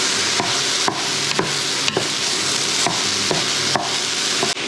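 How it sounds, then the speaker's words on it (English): Chopped pork chop and onion stirred in a hot pan for char siu bao filling, a loud constant sizzle punctuated by regular spatula scrapes roughly every half second. "Dump that in and just mix it up with the onion."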